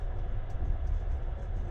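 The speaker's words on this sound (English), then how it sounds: "This train leaves Tashkent at around 9 p.m." An overnight train from Tashkent to Khiva rumbles steadily, a continuous low rolling drone from inside the carriage with no voices.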